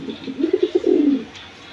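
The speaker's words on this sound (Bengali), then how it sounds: "এগুলা হাই প্রাইসের কবুতর।" A pigeon coos close by, a short run of soft, throaty pulses that swells into one longer rolling coo and then fades into quiet.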